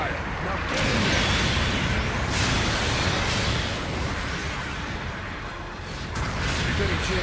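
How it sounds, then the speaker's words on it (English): Long-range artillery supporting fire in the mech battle game Gundam Battle Operation 2, a dense continuous rumble of blasts and barrage noise with recurring louder bursts throughout. "Long-range supporting fire is a go!"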